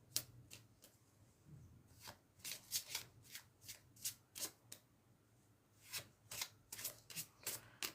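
Shadow work cards being shuffled by hand: a string of about fifteen crisp, papery riffle bursts in an uneven rhythm, close and fairly quiet against a faint low background hum.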